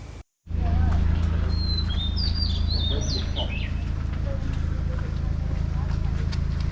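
Crimson rosella parrots call in Australia, a few short, high chirping notes heard mid-way over a loud, continuous low rumble, with people talking nearby.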